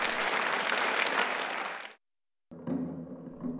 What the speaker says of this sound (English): The Israeli audience responded to the Korean dance Hallyangmu with great applause.